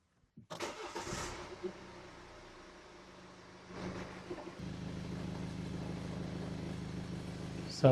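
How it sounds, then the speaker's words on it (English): The diesel engine of a BMW 520d starts up and idles, then rises to a steady, higher hum as it is held at raised revs. It is heard alone and fairly quietly. "So the engine's been revved up to 2000 RPM"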